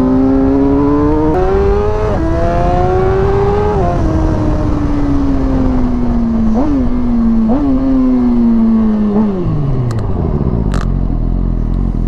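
A Suzuki GSX-R sport motorcycle with a remapped engine climbing a hill, its loud, close engine note rising through the revs, dropping at gear changes, then falling away as the throttle eases near the end, with heavy wind rush throughout.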